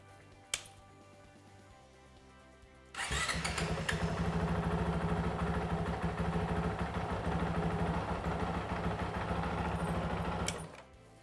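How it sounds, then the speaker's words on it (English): A Honda CRF450L motorcycle engine, just serviced with fresh oil and filter, starts with a sharp burst and then runs at a steady, loud, even idle for several seconds before cutting off abruptly. No one speaks. "I'm going to start and run the engine for a minute."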